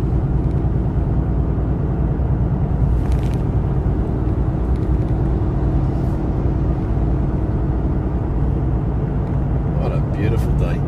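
Car cruising at moderate speed on a road in Thailand, with a constant loud cabin rumble of engine and tyres and someone talking over it throughout.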